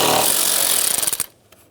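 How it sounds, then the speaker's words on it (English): A 10mm socket on a tool spins out the top fan shroud bolts of a 2014-2018 Chevrolet Silverado 1500 during radiator replacement, a loud, close, rapid ratcheting burst lasting about a second before cutting off to near quiet. "Using a 10mm socket, remove the bolts at the top of the fan shroud."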